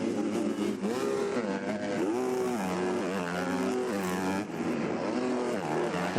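MX2 motocross bikes race during qualifying at the 2019 MXGP of Czech Republic, engines loud and close, revving up and dropping through repeated gear changes in a continuous wailing stream.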